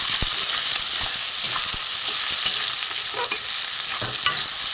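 Potato and onion fry with leftover rice in a pan, giving a loud, continuous sizzle and hiss close up, with frequent scraping and tapping as the food is stirred.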